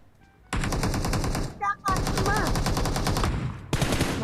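Automatic gunfire in the mobile battle royale game PUBG Mobile rips out in rapid, loud bursts, pausing briefly in between, while a voice speaks under the shots.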